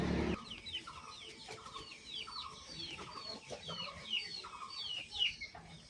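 A Bahama rooster with heavily feathered legs clucking repeatedly in short rhythmic bursts, close by and fairly clear, with other bird chirps and chatter mixed in the background.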